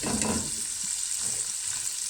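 Dal and rice for pulav frying in a pot over a high flame, a steady close hiss and sizzle with faint stirring scrapes in the first moment, no talking.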